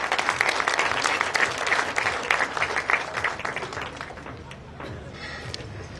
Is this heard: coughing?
no